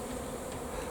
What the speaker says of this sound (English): you can see lots of bees at the front there